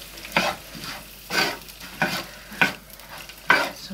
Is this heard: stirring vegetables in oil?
yes